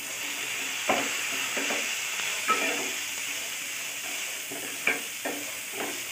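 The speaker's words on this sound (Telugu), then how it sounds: "ఈ విధంగా సన్నటి మంట మీద ఒక 5 మినిట్స్ బాగా ఫ్రై చేయాలండి।" Barley soup ingredients frying in a pan over a low flame, giving a steady soft sizzle and hiss. Faint scraping stirs and clinks of a spoon come every second or so, with no voices.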